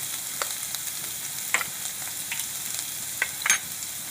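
Garlic and ginger sizzle quietly in hot oil with cumin while dal palak is cooked, a soft continuous frying hiss punctuated by a few light stirring taps; no talk.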